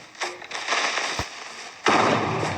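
A creeper blows up in Minecraft, a sharp burst of crackling blasts followed by a second loud, sustained boom near the end.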